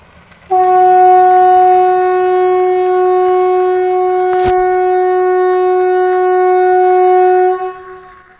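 A loud, steady outdoor warning siren in Sweden, part of a weekly Monday test, blares one sustained pitch for several seconds, then cuts off and fades away; a brief sharp click interrupts midway.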